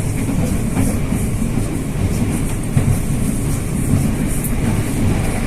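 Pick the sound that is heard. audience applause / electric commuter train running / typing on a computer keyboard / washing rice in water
electric commuter train running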